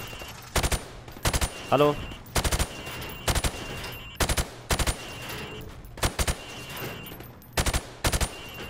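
Short, sharp bursts of automatic gunfire at pop-up targets in Call of Duty Modern Warfare Remastered training, loud and close, fired in repeated clusters of a few rounds with brief pauses between; a voice speaks briefly once.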